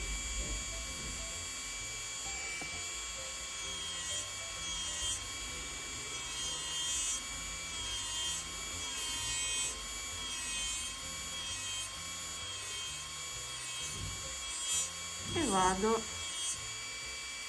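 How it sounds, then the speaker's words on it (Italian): An electric nail drill fitted with a Raptor red-ring carbide bit files natural nails with a steady, thin high-pitched whine and faint hum, running continuously while a voice speaks softly over it. "Vado a prendere la fresa, la punta è la Raptor cerchio rosso di Passione Unghie"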